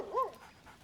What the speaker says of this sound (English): What a good doggy.